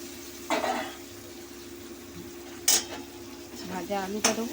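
Fried potatoes tipped into cooked spice paste in a pan and stirred, with a few sharp metallic scrapes and clinks over a soft sizzle and low hum, with a voice speaking between them.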